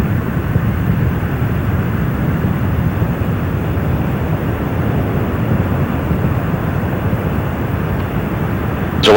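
Space Shuttle Columbia's rocket engines roar during launch ascent, a loud, continuous broadband rumble that holds steady and constant from start to finish.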